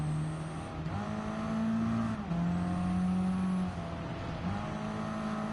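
A rally race car in the Gran Turismo 7 video game drives on, its engine droning steadily and rising and falling in pitch as it shifts gears, loud and continuous with no talking.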